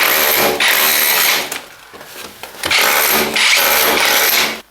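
Power tool cutting a chase channel into a house wall during a rewiring job, loud grinding in two long bursts separated by a brief lull, with dusty debris rattling.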